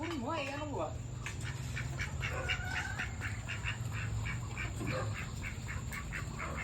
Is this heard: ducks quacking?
yes